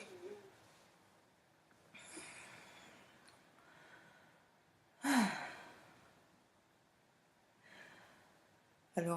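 Slow breaths out during an alternate-nostril breathing exercise, soft airy exhales spaced a few seconds apart, one stronger breath near the middle, quiet and close.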